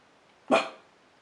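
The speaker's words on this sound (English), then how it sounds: "this is my little Jack Russell" A small Jack Russell terrier gives a single sharp, loud bark close by indoors, brief and alone against quiet room tone.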